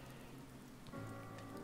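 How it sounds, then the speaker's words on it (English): Steady rain pours in a video game, a constant soft hiss of drops on surfaces that stays even and fairly faint, with no voices over it. "I can't believe this rain."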